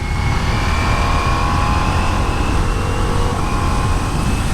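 A 2023 Ducati Diavel V4 motorcycle engine under way, with a loud, steady roar and faint tonal whine mixed into strong wind rush, holding at an even level with no speech.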